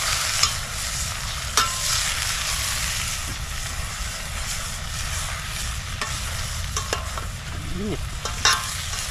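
Food fries in a hot pan with a steady loud sizzle, while occasional clinks and scrapes of stirring cut through it. A voice speaks briefly.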